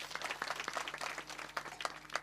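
Clapping at a kirtan in Karjat, honouring a mridang player, a scattered crowd patter of claps under a steady low hum, moderately faint throughout.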